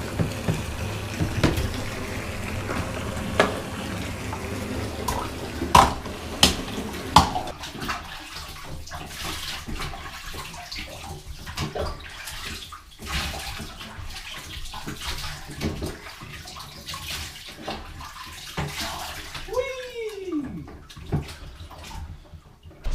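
Water running into a baby's bathtub, a continuous close splashing rush with scattered clunks and knocks, plus a brief squeaky sound near the end.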